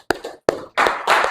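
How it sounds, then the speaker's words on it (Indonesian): A few people clapping for participants in a small group session, two sharp isolated claps followed by a short, louder flurry of hand claps, close and dry. "Tepuk tangan untuk kalian semua"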